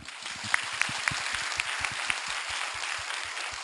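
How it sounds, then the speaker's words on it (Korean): Audience applause at a lecture for court officials: an even spatter of clapping from a hall full of listeners, moderately loud and steady with a few sharper individual claps standing out. "신기하면 박수 부탁드려요."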